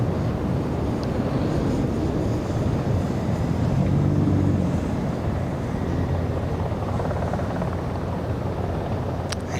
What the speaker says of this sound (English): I hear that helicopter.